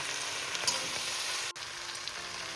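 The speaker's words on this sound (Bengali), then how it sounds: "দেখো, পেঁয়াজ কালি কিন্তু ভাজা আমার হয়ে গেছে" Onion stalks fry with turmeric and spices in a pan, a faint, steady sizzle with a soft tap of a utensil partway through.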